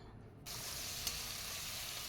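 Eggplant sizzles in hot oil after salt is added, starting abruptly after a brief quiet moment and then holding an even, soft frying hiss with one small clink partway through.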